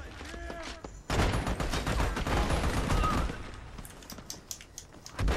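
Gunfire in the Army of Two video game, a long burst of rapid automatic shots that starts abruptly after a quieter opening, then thins to scattered cracks and a final loud burst, with voices talking faintly underneath.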